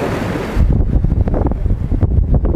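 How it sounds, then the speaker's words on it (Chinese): Strong seaside wind on a rocky shore fishing spot buffets the microphone in loud, roaring gusts, with a harsh hiss that drops and then surges in uneven bursts. "大风啊！"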